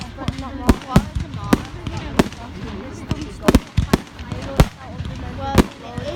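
Bonfire night mortar fireworks bursting overhead in a rapid irregular series of loud bangs and crackles, with people talking and reacting nearby.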